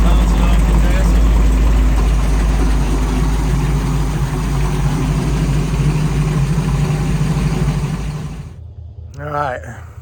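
A Mistress 3 boat engine with a newly replaced fuel line runs steadily at idle, a loud low rumble that holds for about eight seconds and then cuts off, followed by a brief faint noise.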